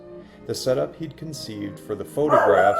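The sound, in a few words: dog barking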